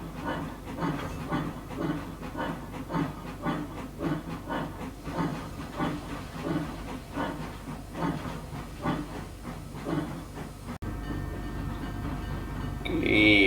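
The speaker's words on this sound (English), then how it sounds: "you can just see in the background there the passenger train pulling forward, and it'll be backing down the barge slip" A passenger train in the Trainz railway simulator moves near a barge slip and steamer wharf at Robson, British Columbia, in a 1901 setting, giving a steady hissing, chugging rumble with rhythmic pulses, fairly loud and continuous, with no talk over it.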